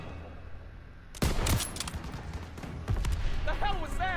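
Gunfire in Call of Duty WWII, a sudden loud volley of close shots followed by rumbling battle noise and another burst, with shouted voices in the mix.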